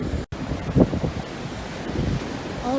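Strong wind buffets the microphone on a beach at low tide with boulders nearby, over a steady wash of ocean surf, the gusts rising and falling with a brief dropout near the start.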